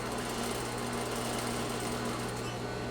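A sewing machine stitches layers of fabric for a corner sample, running at an even pace with a close, dense whir and a steady motor hum throughout, no talk.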